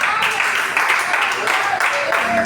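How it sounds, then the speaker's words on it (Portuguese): A church congregation claps hands together, a dense, steady patter of many palms that continues evenly throughout. "Com as palmas bem fortes."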